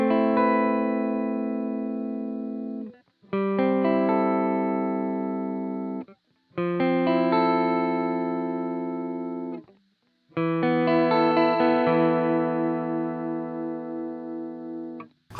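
Electric guitar through an EVH 5150 Iconic EL34 amplifier on a clean tone with lows boosted and mids cut: four ringing strummed chords, each left to sustain and fade, with short gaps between them, played alone and close.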